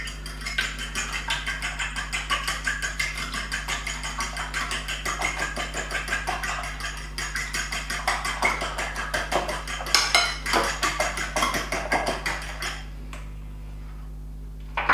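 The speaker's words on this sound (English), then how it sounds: "And now you have to just whisk it." Eggs for traditional Polish pork cutlets are whisked in a bowl with a fork, a steady rapid clatter of metal against the dish that runs close and loud over a low hum, then stops near the end.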